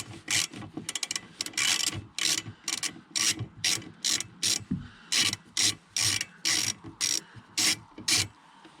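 Repeated ratcheting clicks from a 15mm socket wrench loosening the windscreen wiper nut on a Volvo P3, about a dozen short bursts in steady rhythm, close and crisp.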